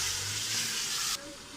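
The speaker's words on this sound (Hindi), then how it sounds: "कीमा फ्राई हो रहा है" Minced meat (keema) for aloo keema sizzles steadily in a pan as the ice in it melts, a dense close frying hiss that suddenly drops to a quieter simmer near the end.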